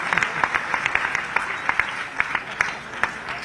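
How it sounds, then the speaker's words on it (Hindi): Audience applause at a regional conference honouring democracy fighters in Bhopal, a steady crowd clapping with sharp individual claps popping out irregularly over a dense, moderately loud wash. "आप ताली वाली बजा करके बता सकते"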